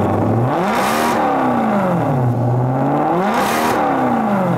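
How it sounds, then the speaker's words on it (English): A Maserati GranTurismo S 4.7 MC engine revs repeatedly, rising and falling in pitch with a loud, close, throaty whine, two sharp accelerations standing out. "Give it another couple of revs. Another rev."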